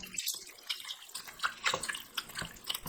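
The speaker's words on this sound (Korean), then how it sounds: "잔가시에 물 400ml 넣고 주무르면 속에 박혀있던 살이 뽀얗게 나와요." Small mackerel bones kneaded by hand in about 400 ml of water, giving soft, irregular squelches, drips and splashes in a quiet close-up setting, with no voices.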